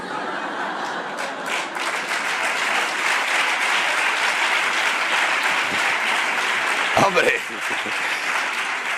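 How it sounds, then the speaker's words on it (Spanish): An audience at a Spanish humor talk breaks into loud, sustained applause mixed with some laughter, a voice briefly cutting in over the clapping near the end. "gracias por aplaudirle a mi abuela"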